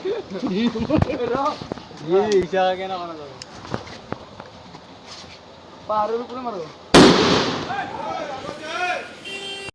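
Voices chatter at a wedding before one sharp, loud firecracker bang cracks out nearby and decays into a rumbling tail while people keep talking.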